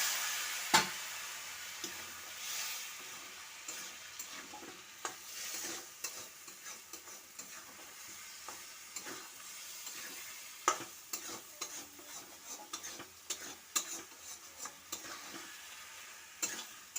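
Fried potato chunks simmer in a pan with a little water, sizzling softly while a utensil stirs and scrapes in scattered clicks and knocks, close up with no talk.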